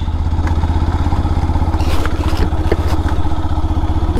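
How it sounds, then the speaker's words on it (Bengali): A Himalayan motorcycle's engine runs close by, giving a loud, steady, low rhythmic thumping with light mechanical clatter throughout. No one speaks. "এটা আমার হিমালয়ান বাইক, তার জন্য সব জায়গায় চলে যায় বাইকটা"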